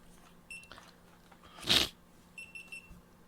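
Faint electronic alarm beeps on a radio program, two short clusters of high beeps separated by a brief louder burst of noise, with no talking.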